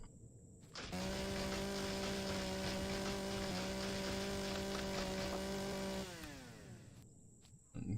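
A chainsaw in the game Empyrion Galactic Survival cuts through a clump of trees, running loud and steady for several seconds with a constant buzzing whine before winding down.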